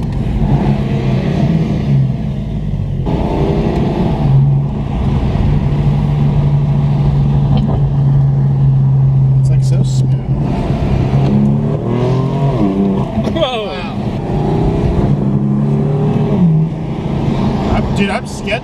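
A BMW M4 engine downshifts and accelerates from inside the cabin, with a steady low engine drone and changing harmonics under continuous conversation between occupants.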